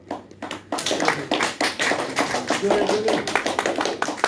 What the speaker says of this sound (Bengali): আপনারা জেনে একটু হাততালি দিন রাজার জন্য।